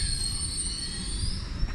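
A TransPennine Express train pulls into Durham station, its steel wheels giving a loud, sustained high-pitched squeal over a continuous low rumble of rolling stock, close by and with no voices.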